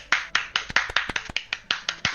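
Applause at a junior robotics competition final, a few people clapping in a quick, loose rhythm of sharp, distinct claps, close and fairly loud with no voices over them.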